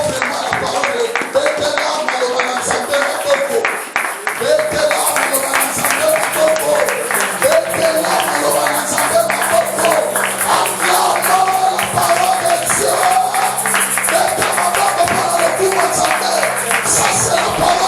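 A church congregation at a Sunday service applauds and cheers, steady dense clapping with crowd voices, sustained and loud throughout, mixed with shouting and singing-like tones.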